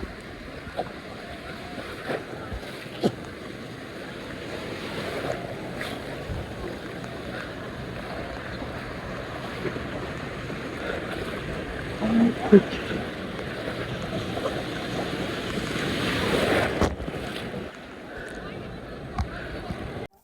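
Ocean waves wash steadily onto the beach at Cox's Bazar, Bangladesh, a constant roar with gusts of wind buffeting the microphone and voices talking now and then.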